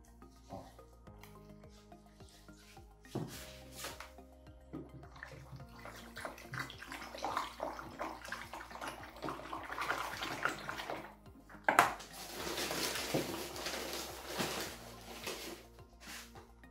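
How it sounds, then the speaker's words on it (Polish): Water poured onto setting plaster for a sculpture's last layer, a continuous splashing and trickling wash that builds and surges partway through, with faint clinks of a container and stirring. "Idę po wodę, zalewamy to"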